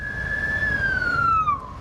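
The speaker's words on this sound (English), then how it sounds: "there's an ambulance coming this way" An ambulance siren's single long wail, loud and close, holding steady before sliding downward in pitch as the vehicle passes on a road.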